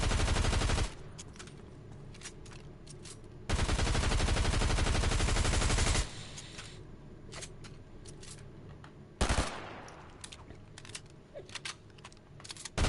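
Hyper SMG fire in Fortnite: two long, loud, rapid automatic bursts, then a short burst and scattered single shots, all close and with no talking.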